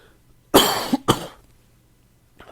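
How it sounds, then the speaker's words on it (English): A person coughs twice in quick succession, close and loud, the second cough sharper, followed by a faint throat sound after a pause. "talking more makes me want to cough more"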